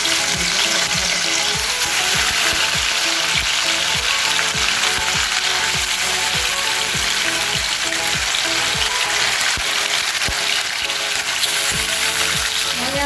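Fish fries in hot oil in a kadai for an Assamese fish curry, a loud, dense, continuous sizzle with fine crackling and a faint regular ticking beneath it, close up and uninterrupted by speech.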